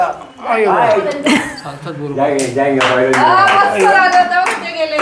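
Several sharp hand claps ring out amid excited voices and light laughter, close by and loud, scattered irregularly through the talk.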